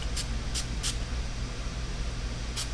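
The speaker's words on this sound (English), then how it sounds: "This is a definite need for fruit enzyme spray" Four short hissing bursts of fruit enzyme spray from a spray bottle, spaced irregularly over a steady low background hum, fairly close and moderately loud.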